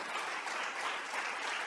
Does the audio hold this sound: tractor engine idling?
no